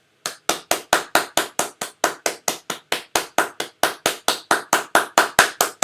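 Applause for graduating seniors comes from a single pair of hands clapping at home. The claps are sharp, evenly spaced and fairly close, about five a second, and keep going steadily with no voices.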